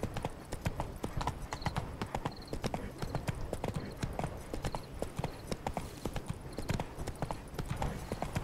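Roach the horse trots in The Witcher 3, steady clip-clop hoofbeats in a quick, even rhythm, close and clear, with a faint background bed beneath and no talk.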